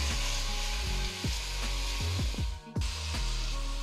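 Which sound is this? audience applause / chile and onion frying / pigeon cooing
chile and onion frying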